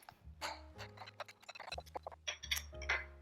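Seeds and arrowroot powder stirred together in a bowl, giving a quick run of close, irregular clinks and scrapes from the utensil against the bowl, with no talk.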